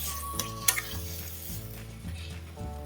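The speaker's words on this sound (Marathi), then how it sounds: "2 ते 3 मिनिट वांग छान कांद्यामध्ये मसाल्यांमध्ये परतवून घेऊया." Brinjal stir-fried with onion and spices for vangyache bharit, a soft sizzle with a few spoon taps and clinks against the pan, no voices.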